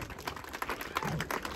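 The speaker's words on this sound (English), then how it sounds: "Give him a big round of applause." Applause from a church congregation at an Easter Sunday service, a steady patter of many hands clapping at moderate distance, fairly quiet and continuous with no voices over it.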